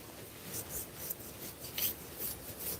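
Knife cutting pork knuckle into cubes: soft, continuous rasping and scraping strokes of a blade through meat and skin, fairly quiet and close, with no talking.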